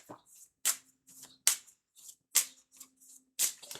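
A deck of Lenormand cards is cut and riffled by hand, giving several quick crisp bursts of card flutter and taps close to the microphone, with brief pauses between them.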